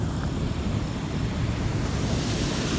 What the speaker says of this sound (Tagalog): Lakas ang agos sa tubig.